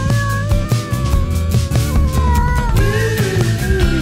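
A tomcat meows in a long, loud, drawn-out yowl, singing to a female cat at a riverside village in Rastoke near Slunj, with wavering pitch and no other voices.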